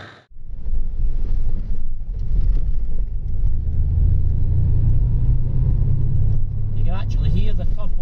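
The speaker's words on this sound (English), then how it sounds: "You can hear the noise off it, the whine off the drivetrain, the spool for the turbos and everything" Low engine rumble and rising drone from the world's only Lotus Carlton estate with a rebuilt twin-turbo engine, a steady heavy tone holding for several seconds with a faint whine and a voice talking over it near the end.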